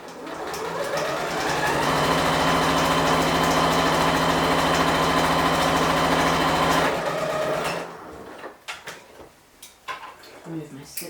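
Sewing machine stitching a fashion seam with a 1.5 seam allowance, running steadily and loud for about seven seconds before stopping, followed by soft handling clicks and fabric rustles.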